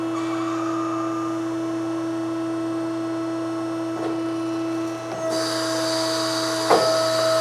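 A hydraulic tube bender retracts its pressure die on a frame rail with a steady, droning mechanical hum, punctuated by a few soft clunks and a shift in tone near the end, with no one talking.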